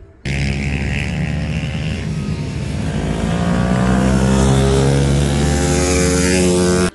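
A Honda 125 CBR, originally a road bike converted for track use, revving hard and steadily for about seven seconds, a loud close engine whine that holds near-constant pitch and swells slightly toward the end.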